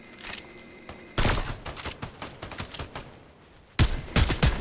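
Rapid bursts of gunfire aimed at a bot in the video game Fortnite, loud and close, with a dense volley at the start, scattered shots through the middle and another sharp burst near the end.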